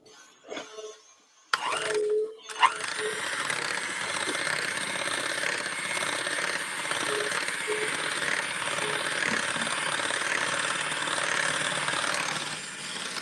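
A loud, steady mechanical whirring from a milk frother drones continuously after a couple of brief clunks at the start, harsh and close with no speech.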